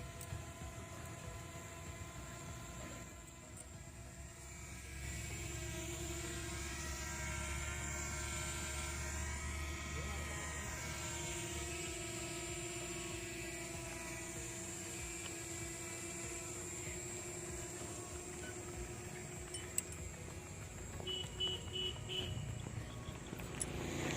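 Drone flying overhead with a steady whirring, high-pitched rotor whine that rises and falls gently in pitch, faint and continuous throughout, with no talking.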